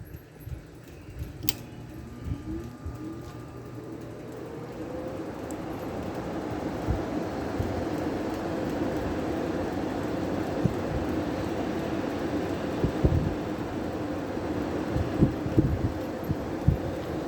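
A 1992 Amana Cool Zone window air conditioner starting up on low fan, a brief click and rising whir settling into a steady broadband hum with low rumbling, no voices.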